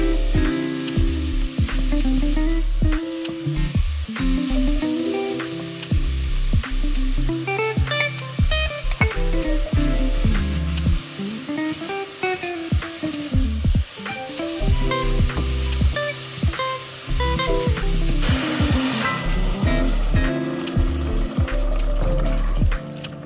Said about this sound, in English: I will use some little oil. You can choose to skip the oil, but I'll saute this for about 5 minutes until all is cooked through